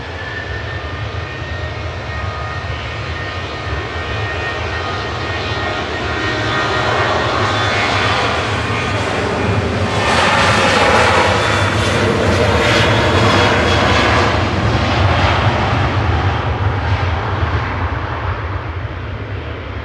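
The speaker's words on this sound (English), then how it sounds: "Jet2 flight 913 over to Bergerac there." A Jet2 Boeing 737-800 passenger jet flying at Manchester Airport, its engines a loud continuous roar that builds toward a peak in the middle and holds steady as it passes.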